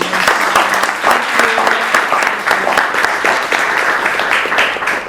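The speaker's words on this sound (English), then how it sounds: "Can we get a round of applause for Ms. Myrna?" An audience at an evening business networking event claps warmly and continuously throughout, a dense, loud, steady wash of applause with no break.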